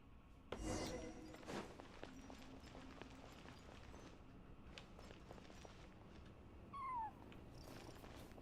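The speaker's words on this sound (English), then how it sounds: "Does it want me to follow its cries? Stray cat." A stray cat in the Genshin Impact video game mews and purrs faintly, with a short rising cry near the end over quiet game ambience and soft footstep-like taps.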